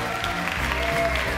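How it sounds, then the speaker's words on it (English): An audience at a variety show gives a brief round of applause, a steady wash of clapping hands with a voice faintly mixed in. "Let's give a nice round of applause to my friend here."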